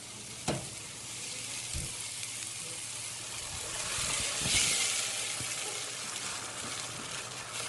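Steak sizzles in a hot pan, a steady crackling hiss with a couple of light clanks, swelling briefly toward the middle.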